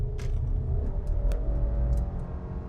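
Low, steady rumble from the engine of a 2025 Subaru Legacy Touring XT under full throttle, heard from inside the cabin, with faint clicks and ticks above the drone.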